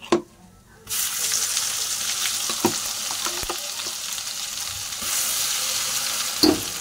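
Ground masala for misal pav is fried in a hot pan, giving a loud, steady sizzle that starts abruptly after a brief quiet moment, with a few sharp clinks from stirring.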